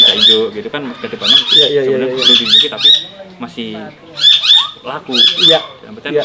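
A large honeyeater bird from Papua, kept at an aviary, gives repeated harsh, loud squawking calls in bursts, close by, while people talk over them.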